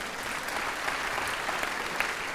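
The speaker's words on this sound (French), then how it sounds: "On l'applaudit." A crowd applauds a giant-bearer at a Sunday gathering, with a steady wash of fairly distant clapping and a few sharper individual claps standing out, no talk on top.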